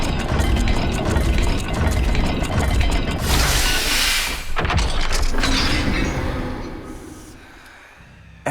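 A magical dial puzzle mechanism turns in Hogwarts Legacy with grinding ratchet clicks and heavy stone-and-metal rumbles, swelling and pausing over several seconds before fading into quiet.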